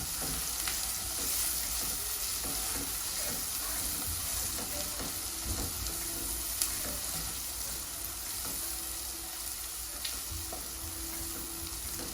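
Garlic sizzling in hot oil in a pan while cooking shutki vorta (Bangladeshi dried fish mash), with a steady broadband frying hiss and occasional small pops and clinks, with no talk.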